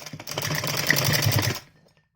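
A sewing machine runs a short burst of stitching on fabric for a top, a rapid even mechanical whir lasting about a second and a half before stopping abruptly.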